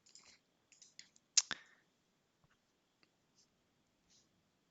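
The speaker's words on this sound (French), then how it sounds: "Saisie clavier" Sparse, quiet clicks and taps in irregular bursts of computer keyboard typing, with one louder clack and long pauses between strokes.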